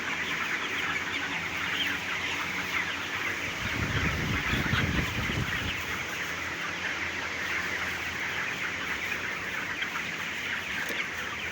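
Chickens on a poultry farm in hot weather keep up a continuous chorus of clucking at a moderate distance, with a brief low rumble partway through.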